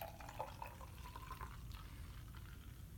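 Hill Farmstead Flora Pear beer being poured into a glass, a soft, steady liquid splash and fizz that runs faintly and continuously throughout, with no talk.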